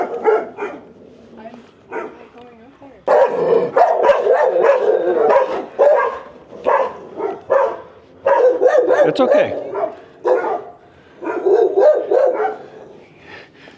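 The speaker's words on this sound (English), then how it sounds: "there's a whole bunch of dogs" A pack of dogs barks near the ruins of an Aztec temple in Malinalco, Mexico, with repeated overlapping bursts of barking and yipping and some whimpering, close and loud. A person speaks briefly among the barks.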